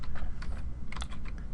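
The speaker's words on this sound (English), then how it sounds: "I just start typing the names" Quick, close keystrokes clatter on a computer keyboard while a formula is typed into an Excel spreadsheet, a short uneven burst of clicks.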